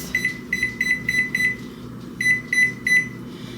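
A kitchen timer on an oven set to 350 for roasting bones for broth beeps in quick, evenly spaced clusters of sharp high tones, pauses, then repeats the pattern, loud and close.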